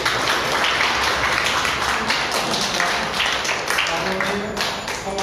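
An audience at a Mithila painting competition event claps for the judge invited on stage, a sustained dense patter of applause with some talk mixed in.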